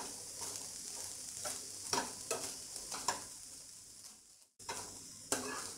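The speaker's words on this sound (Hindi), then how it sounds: "अब इन सारी चीज़ों को अच्छे से मिक्स कर लेते हैं।" Chicken filling for bread cheese mayo rolls, seasoned with tomato ketchup, green chili sauce and chopped coriander, is stirred in a hot pan, with a steady sizzle under a run of scraping spoon strokes that comes close and stays loud.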